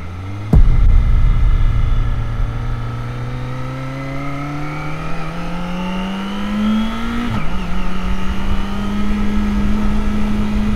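A Kawasaki ZX25R four-cylinder motorcycle takes a low-speed turn. Its engine is close and loud, whining steadily higher in pitch, then dips briefly before droning on at a higher, even tone.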